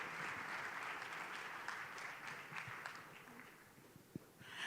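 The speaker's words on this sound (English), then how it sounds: "May we all have a round of applause for Balozi Maikara." An audience at a Kenyan diplomatic panel dialogue applauds with steady, sustained clapping that stays fairly faint and distant, fading slightly before a brief swell at the end.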